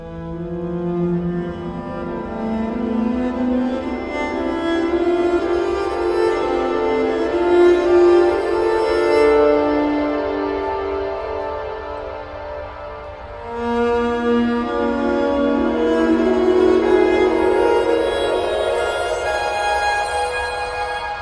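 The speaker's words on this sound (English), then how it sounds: "So when I do it on the electric viola, it sounds like this." Electric viola bowing dense, dissonant note clusters drenched in heavy reverb, forming a continuous droning swell that shifts pitch slowly, briefly dips near the middle, then surges back loud.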